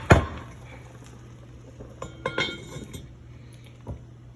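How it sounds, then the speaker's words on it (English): A metal lid clinks down onto a cooking pot of pork carnitas brought to a boil, one sharp clatter followed by a few lighter taps and rattles, fairly close and with no one talking. "you're going to want to put the lid on it"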